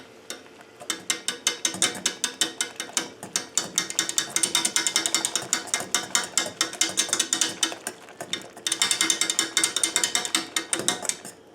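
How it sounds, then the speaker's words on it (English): A whisk rattles rapidly and steadily against a pot while autumn olive jam is stirred, a continuous dense metallic clicking with brief pauses, close and loud with no talking. "And now I'm gonna use a whisk to really get it mixed in."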